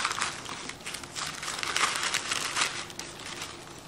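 Wrapping paper crinkles and rustles close up as it is pressed and fitted inside a gift box, a continuous papery crackle with no talking.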